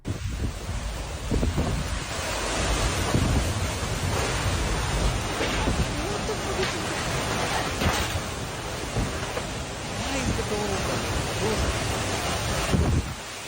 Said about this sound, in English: This hailstorm in Texas was so intense that the hail started coming inside the home.